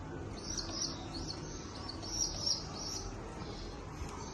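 Pigeons at their nest with a chick give soft, low cooing and a few faint chirps over steady background hiss, quiet and close throughout.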